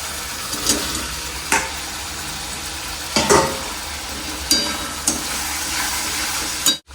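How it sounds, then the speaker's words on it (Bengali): Potatoes going into a pan of frying spice masala: a steady sizzle broken by several sharp bursts and clatters of stirring, with no talking. "মশলা কষানো হয়ে গেছে, এবার আলুগুলো দিয়ে দেবো।"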